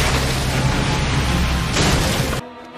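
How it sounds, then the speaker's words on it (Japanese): A water release jutsu effect from Naruto Shippuden: a loud, dense rushing burst of water that surges for over two seconds and then cuts off abruptly. "水遁水弾波。"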